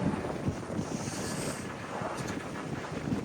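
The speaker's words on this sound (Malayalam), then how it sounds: "ഭയങ്കര തണുത്ത കാറ്റാണ്" Cold sea wind buffets the microphone on the deck of a ferry crossing from England toward the French coast, a steady moderate rush with gusty low thumps and no talking.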